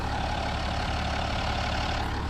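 A BMW 330d's 3-litre diesel engine idles steadily and smoothly with a low, constant rumble and an even hum, heard close up with no talk.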